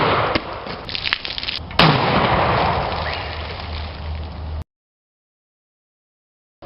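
Potato cannon fired with a propane and oxygen mix, a sharp loud blast followed by a ringing, decaying rumble outdoors, then silence.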